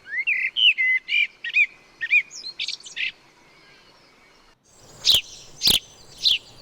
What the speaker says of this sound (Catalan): aquesta per casa meva n'hi ha moltes, que és la merla